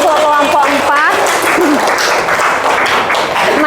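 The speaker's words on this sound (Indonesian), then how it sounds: "tepuk tangan untuk kelompok 4" A classroom of seventh-grade students applauds for a presenting group, a dense burst of clapping that holds steady throughout, with a few voices calling out over it near the start.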